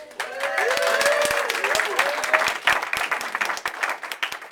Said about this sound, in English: you should never get a bigger round of applause than the candidate